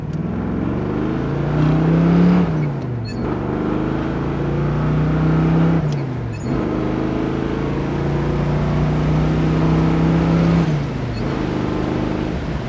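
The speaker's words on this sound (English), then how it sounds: "they got the green arrow, so I'm gonna go." A 1980 Chevrolet Camaro Z28 with a 350 V8 accelerates from a stop, its engine droning loud and close from inside the car and rising through the gears, with a drop in pitch at each of three shifts.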